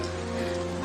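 Rain falls steadily in a dense, even hiss during a traffic jam, with no voices heard.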